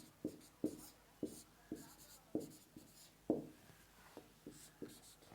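Pen or chalk strokes writing physics formulas, a series of short scratchy taps in an uneven rhythm, close and fairly quiet with no voices.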